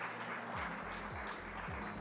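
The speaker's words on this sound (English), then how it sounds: "Can we have a big round of applause for all our winners?" Audience applause for award winners at an evening awards ceremony for women entrepreneurs, a steady dense patter of clapping sustained throughout, with no voices over it.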